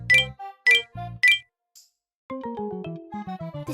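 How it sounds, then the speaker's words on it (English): Phone message notifications arrive back to back: three bright, close dings in quick succession, then a pause and a longer rising melodic jingle, loud with no talking. "out of nowhere, my phone buzzed with multiple messages back to back."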